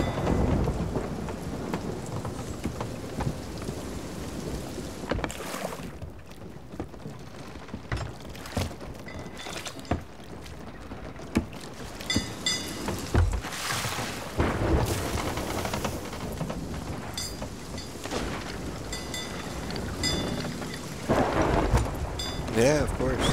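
Heavy rain pours without pause in the Sea of Thieves video game, broken by several loud rumbling thunderclaps that swell and fade over the steady downpour.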